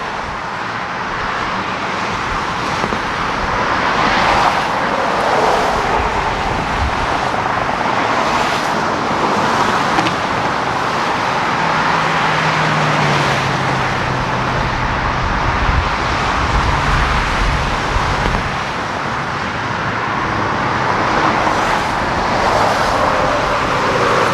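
Cars pass by on a road, a continuous rushing hum of traffic that swells and fades as vehicles go past, loud and fairly close, with no voices.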